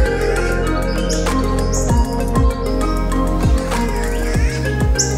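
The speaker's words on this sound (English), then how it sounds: "That wailing sound you can hear is a catbird." Several bird calls ring out over a steady low background hum, including a catbird's drawn-out wailing cry among shorter chirps, fairly clear and close, in O'Reilly's Rainforest, Lamington National Park, Australia.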